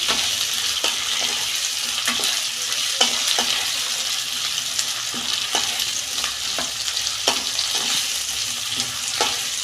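Soybean chunks fry in a pan with a continuous bright sizzle and rhythmic spatula strokes scraping and tapping through the oil, close and fairly loud throughout.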